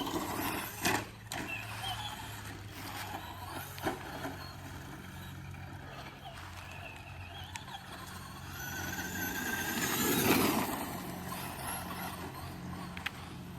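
A Traxxas Slash two-wheel-drive RC truck on modified Traxxas tires races around an RC raceway track, its motor whirring steadily as tires scrub and squeal while it spins out in the corners, rising to a louder squealing pass near the end.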